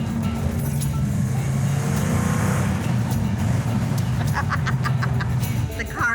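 A car engine drones loud and steady from inside the cabin, a sustained low roar pushing hard throughout, with faint voices in the background.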